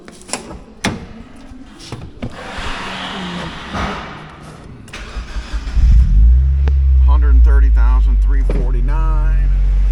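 A 2002 Mazda Miata at an auto wrecking yard cranks and fires up, settling into a loud, steady idle after scattered clicks and someone talking over the start.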